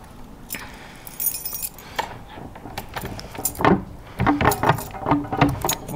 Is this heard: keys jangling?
yes